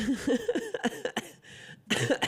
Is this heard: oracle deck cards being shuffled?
no